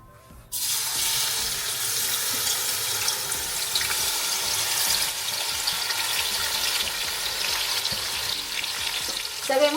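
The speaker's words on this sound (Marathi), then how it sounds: "आता मी जे पाच कांदे कापून घेतलेले होते त्यामध्ये मी तळायला टाकत आहे" Five chopped onions tipped into hot oil for pav bhaji, bursting into a loud, steady sizzle right after a quiet start and frying continuously up close with no talking.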